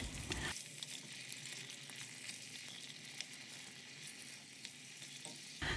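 Dried fruits fry in melted butter in a pan over high heat for Baku-style plov, giving a steady, close, continuous sizzle that lasts the whole time with no talking.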